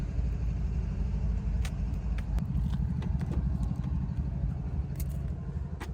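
Car engine rumbling steadily from inside the cabin while driving, a continuous low drone with faint clicks and taps, no talk.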